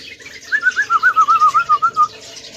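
A bulbul in an aviary sings a rapid warbling call, a run of about a dozen quick rising and falling notes, close and clear against a quiet background.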